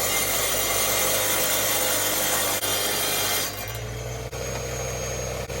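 A Parkside wet tile saw from Lidl cuts through tile freehand, giving a loud, continuous harsh grinding hiss over a low motor hum that eases slightly as the cut finishes, close by and without talk.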